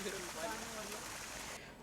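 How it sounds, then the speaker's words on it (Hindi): A cold mountain stream on the Rudranath temple trek rushes in a steady, soft hiss, fairly faint, with a voice talking over it. "ये पानी काफ़ी ज़्यादा ठंडा था और इस पानी की जो साउंड थी बहुत ही ज़्यादा"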